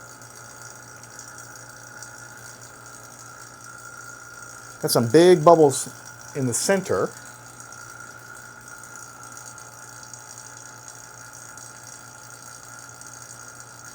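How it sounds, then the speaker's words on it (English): A vacuum pump drawing down a chamber near its limit runs with a steady, droning hum with tonal overtones throughout, and a person speaks briefly over it. "we're almost to the limit of what this vacuum pump can actually do"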